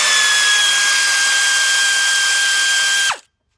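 A power tool whines steadily at high pitch for about three seconds while removing two 8mm bolts from the intake of a 2003 Dodge Grand Caravan 3.3, then spins down and stops abruptly into silence.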